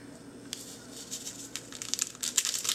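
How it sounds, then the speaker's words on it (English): Packaging torn open by hand without scissors, a series of crinkling rips and crunches that grow louder and denser toward the end, close up with no talking. "There are no scissors anywhere, so I'm just gonna rip it."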